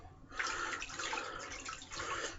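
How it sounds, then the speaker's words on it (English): A towel is dipped into a basin of cold water for a shave, giving a steady splashing, sloshing wash of water that runs close and moderately loud for a couple of seconds with no talking. "I'm going to dip it in the water."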